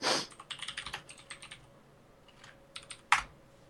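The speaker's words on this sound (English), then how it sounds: "Typing it in." Quick bursts of typing on a computer keyboard, light clicking keystrokes in short irregular runs with pauses between, close and fairly quiet.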